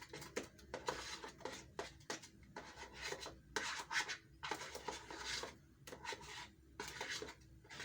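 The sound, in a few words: mixing scone batter in a bowl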